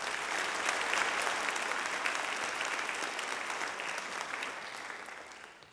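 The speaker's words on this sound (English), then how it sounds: "Give them a round of applause." Audience applause at a junior high school spring band concert, a dense steady clapping from a full hall that holds strong for several seconds, then gradually thins and fades toward the end, with no talk over it.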